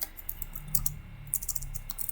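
Someone types on a computer keyboard, with a few quick clustered key clicks in short bursts over a low hum.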